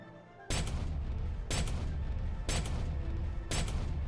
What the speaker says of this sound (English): Fire every cannon.